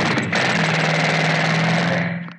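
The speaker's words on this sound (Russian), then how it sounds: "Это ребята достали отбойные молотки." Jackhammers hammering continuously at close range, a loud dense rattle that holds steady for about two seconds before cutting off.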